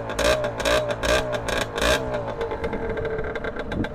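A Yamaha DT 125R two-stroke motorcycle engine revs hard several times close by, quick throttle surges in a row, then settles into a rougher, lower idle.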